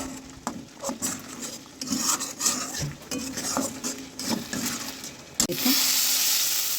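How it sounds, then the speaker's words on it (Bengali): Potato and pointed gourd curry stirred and fried in a pan, with repeated scraping strokes over a steady sizzle that swells louder near the end; a brief spoken word breaks in. "কনস্ট্যান্ট এটাকে ভালো করে এভাবে নাড়াচাড়া করতে হবে"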